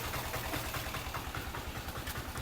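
A heavy engine idles close by, a low, even rumble with a regular throbbing pulse.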